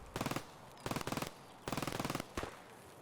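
Automatic gunfire from the Escape From Tarkov video game, with four sustained bursts of rapid shots in a row, the last one brief, heard clearly and fairly loud with no talking.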